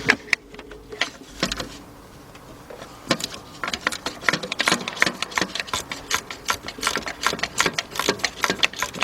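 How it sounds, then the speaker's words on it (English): A 3/8 drive ratchet working a bolt loose on a 2004 Chevy Monte Carlo with a 3.4 engine during intake manifold work, giving rapid, close ticking bursts with short pauses between strokes. "Got it with my 3/8 drive ratchet"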